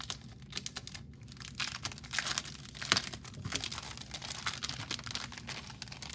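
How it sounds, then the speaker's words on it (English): Noisy paper crunching and crinkling as a planner kit is unpacked, a steady stream of rustles and crackles close up with sharper crunches throughout, no talking. "Sorry for the crunching of the paper, guys, some noisy paper."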